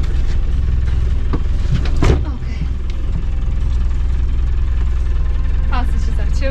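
Car engine idling after its first start since winter, a steady low rumble running throughout with a brief louder burst partway in, while a person talks over it.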